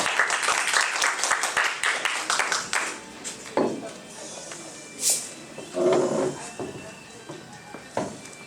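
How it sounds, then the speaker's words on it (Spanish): An audience applauds to welcome a speaker to the stage at an evening talk, giving a burst of clapping that thins into scattered claps with brief murmurs and noises between. "vamos a dar fuertes palmas a nuestro hermano Joseph Calixto"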